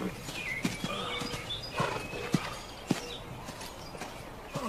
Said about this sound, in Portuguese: Roy, você e o Ed reúnam os cavalos.